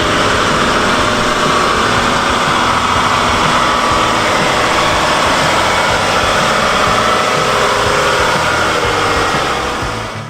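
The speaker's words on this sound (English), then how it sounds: "The engine sound is deep and steady, creating a strong sense of controlled power." A large mining dump truck's engine gives a deep, steady rumble, running continuously and loud close by with no voices.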